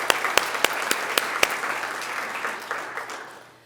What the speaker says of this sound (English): So give a round of applause to Rami.